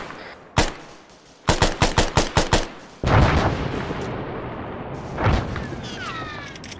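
Gunfire and mortar blasts in the military video game Arma: a single loud shot, a quick burst of seven rapid rounds, then heavy booming impacts with a rumbling tail and another blast after.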